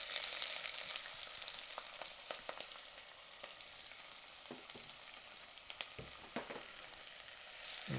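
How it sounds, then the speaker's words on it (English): Onions and garlic fry in hot oil in a warm pot, giving a steady, soft sizzle with scattered crackles and pops and no talk. "I can smell that oil is ready for these onions and garlic to go in."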